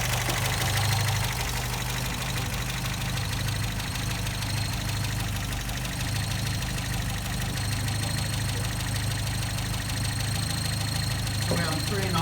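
A steady, close engine idle from a 1950s MGA MK2 sports car while the carburettor idle is adjusted, a constant mid-pitched hum with light knocking that runs unbroken throughout.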